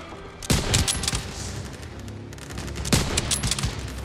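Gunfire in the World War II shooter Call of Duty: WWII, with dense bursts of rifle and machine-gun shots coming in two heavy volleys over a constant battle din, loud and close.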